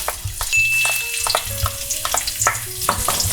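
Garlic sizzling in hot oil in a pan for a Filipino ginisang gulay vegetable dish, a loud close crackle of frying broken by stirring clatter and scrapes.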